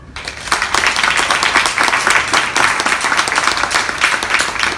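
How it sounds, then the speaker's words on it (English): An audience at a talk on ending hunger gives warm applause for speaker John Coonrod: dense, steady clapping from many hands that stays close and loud for the whole stretch, with no talking over it. "big warm applause for John Coonrod"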